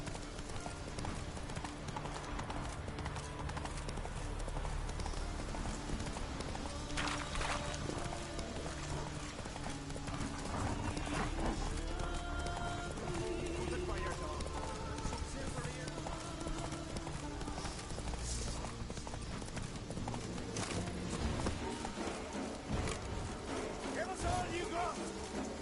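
Horse galloping in Witcher 3, with steady clip-clop hoofbeats running throughout beneath a busy game soundscape of music and effects, a voice calling out over it.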